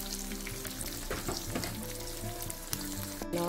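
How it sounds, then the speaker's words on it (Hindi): Red onion fries over high heat in a pan, a steady close crackling sizzle with some stirring scrapes throughout and no voices. "रेड ऑनियन इसको भी मैंने हाई हीट पे 2 मिनट के लिए बस करना है, फ्राई करना है"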